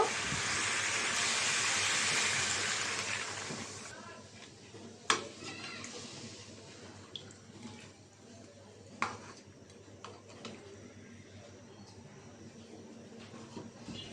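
Broth poured into a hot cooking pot, a strong broad hiss of sizzling for the first few seconds that fades into quiet simmering with occasional clinks, with faint talk in the background.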